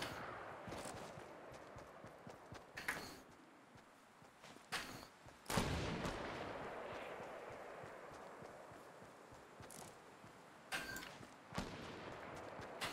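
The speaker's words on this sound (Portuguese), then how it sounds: "tá atirando em mim" Gunfire in the video game Fortnite: a handful of sharp, scattered shots cracking out at irregular intervals over a quiet background, some louder and closer than others.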